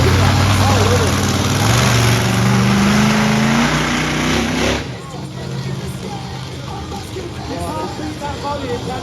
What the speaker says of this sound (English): let's get those engines started